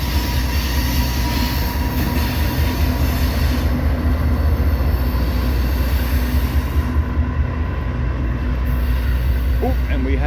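Southbound manifest freight train rumbling past close by in Iowa, loud and continuous with rail clatter and a faint squeal of wheels near the end.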